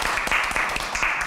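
Applause from an audience at a Korean gathering of opposition women lawmakers, a dense burst of many hands clapping close by, steady and fairly loud for about a second.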